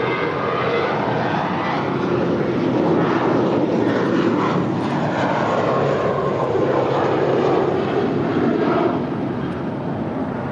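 Airliner taking off from runway 25 right at LAX, a loud sustained roar of engines filling the whole stretch, broad and steady with little change in level.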